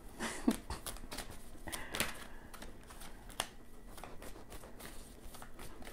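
Tarot cards being shuffled by hand, heard as repeated crisp papery riffles and taps in short irregular bursts, close and fairly quiet, with no talking.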